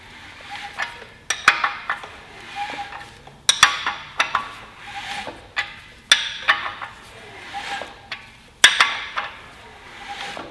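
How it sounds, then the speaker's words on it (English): A wrench turns a Honda K-series engine over by hand during the build to check the timing. Bursts of sharp metallic ratcheting clicks come close by, about once a second, each burst fading quickly. No one speaks. "Now I'm just gonna rotate this thing over using a wrench"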